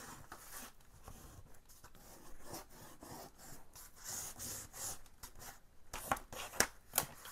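Paper being burnished down onto a Little Golden Book's surface, close and steady: continuous scratchy rubbing strokes in an uneven rhythm, with a few sharper scrapes near the end and no talking.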